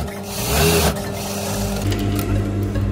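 A sewing machine double-stitches a front-open abaya with a steady, close mechanical whir that continues throughout.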